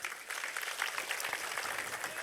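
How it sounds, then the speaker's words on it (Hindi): Audience applause greets a guest at a Bageshwar Dham religious discourse gathering, a steady, fairly quiet wash of clapping that holds evenly for the whole stretch with no voices over it. "आप सब तालियां बजाकर स्वागत करें।"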